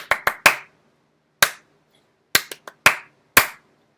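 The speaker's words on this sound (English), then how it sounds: "I'll clap the rhythm" Hand claps tapping out the rhythm of the Luke Skywalker theme from Star Wars: a quick burst of three, a lone clap, then a tighter cluster of five, sharp and close with silence between groups.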